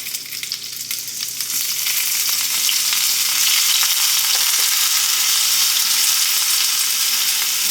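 Shrimp sizzle loudly in a hot pan at a home brunch cook, a steady dense crackle that starts softer and swells to full strength within a couple of seconds, then holds evenly with no voices.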